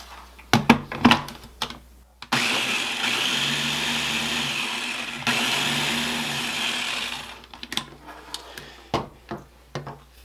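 A blender pulses Yorkshire pudding batter ingredients in two bursts of loud whirring, one after the other, framed by clicks and knocks of handling before and after.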